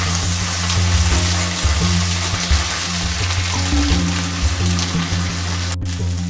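Taro pieces sizzle steadily in a hot pan with oil, a dense continuous fry broken by the soft scrape and clatter of a spoon stirring them, close up with no talk.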